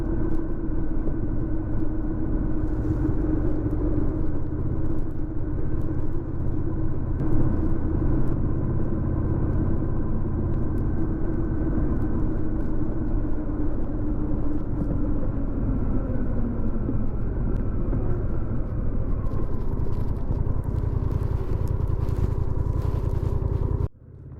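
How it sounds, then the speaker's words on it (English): Steady engine drone of a DCT motorcycle cruising in sixth gear on a road run, held in high gear with a low, continuous rumble and wind noise. The note shifts slightly partway through, with no talking. "The DCT shifted up to 6th gear at the bottom of the hill, then stayed in high gear until I reached the end of my run"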